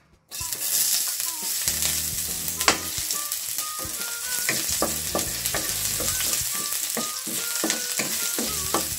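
Ginger sliced into a hot pan for tinola bursts into a loud, continuous sizzle right after a moment of silence, with sharp crackles and spatula scrapes throughout and no voices.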